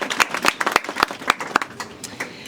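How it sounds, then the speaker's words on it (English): A crowd at Kisii Teaching and Referral Hospital applauds its healthcare workers. The clapping is brief, scattered and uneven, a moderate number of hands rather than a roar, and it thins out toward the end. "a round of applause for all the healthcare workers and everything that you do"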